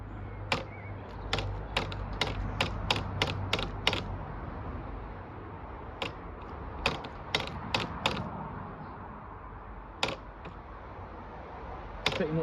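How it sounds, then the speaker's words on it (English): Mechanical clicks and clacks while the slave cylinder is taken off a Suzuki Bandit 1200 motorcycle, a quick run of sharp ticks early on, then scattered single knocks over a low steady hum, no talking. "or just take the slave cylinder out."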